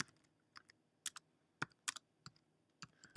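Someone types a short folder name on a computer keyboard, a quiet string of separate key clicks with uneven gaps, close and alone.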